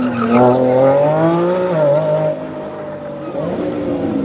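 A Lamborghini Revuelto, a 6.5-litre V12 plug-in hybrid, drives past loudly with a high engine note whose pitch climbs then dips, with a tyre-squeal edge before easing to a steady lower drone.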